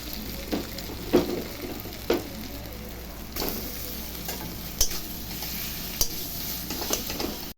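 Chopped ginger and garlic fry in a pan, giving a steady close sizzle broken by periodic sharp scrapes and clinks as a spatula stirs against the metal.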